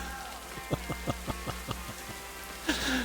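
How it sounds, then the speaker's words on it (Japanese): Rain heard from inside a tunnel, rendered as a quiet, uneven series of soft drops and taps, followed near the end by a brief louder burst of sound. "トンネルの中入っとんのに、雨音が聞こえる"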